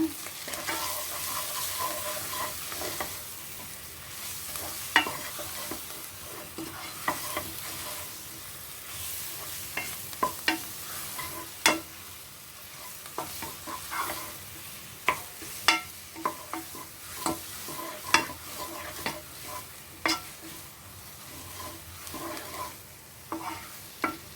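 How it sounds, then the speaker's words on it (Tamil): A spoon works kachori filling of onion and potato around a pan, giving repeated scraping strokes at an uneven pace over a soft, constant frying hiss. "சரி, நல்லா கலந்து விட்டுடலாம்"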